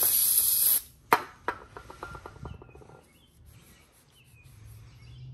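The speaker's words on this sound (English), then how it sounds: "I'll spray a little on a rag here." Brake cleaner from an aerosol can hisses in one loud, close burst onto a rag during car brake caliper painting, followed by a few sharp clicks and faint rattling.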